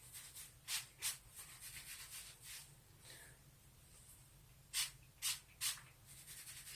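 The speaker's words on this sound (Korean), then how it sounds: "두피에다가 뿌려주고 비벼줘요" Hair tonic sprayed onto the scalp in several short hissing bursts, with soft rubbing of fingertips through the hair between them, faint and close, no speech.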